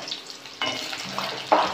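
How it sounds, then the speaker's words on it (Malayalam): Pieces of coconut hit hot oil in a pan, giving a close, bubbling sizzle with stirring scrapes and a sharper hiss that swells at the end, in a short burst without talk. "ഈ തേങ്ങാക്കൊത്തിന് ചെറുതായിട്ട് ഒന്ന് ഫ്രൈ ചെയ്തെടുക്കാം."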